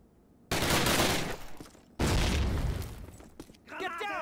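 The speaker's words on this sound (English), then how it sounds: "Get down! Grenade!" Two loud grenade blasts in an older Call of Duty game, each a sudden crack and boom that rolls off over a second or so, followed by scattered gunfire and brief voices.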